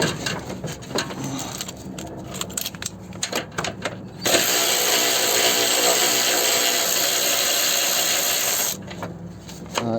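A power tool removes a radiator bolt on a 2009 Toyota Corolla. A few short, choppy bursts come first, then one sustained whirring run of several seconds before it stops.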